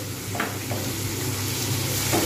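Mung and masoor dal fry in a pan for sabudana khichuri, a steady close sizzle and hiss with a few soft scraping stirs, and no voices.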